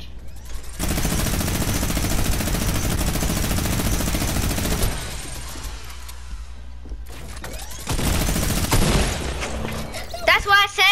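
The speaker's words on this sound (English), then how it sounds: "That's why I said use the drum gun." In the Fortnite video game, a drum gun fires in long rapid bursts, loud and close, with a pause between two volleys and people talking over the gunfire.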